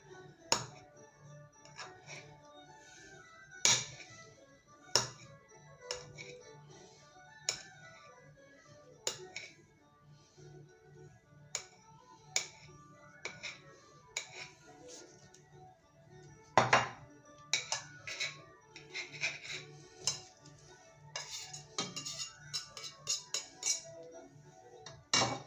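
A knife taps and clicks against a cutting board while sausage and olives are sliced. The sharp, irregular chops and clinks are quiet and close, with scattered louder knocks.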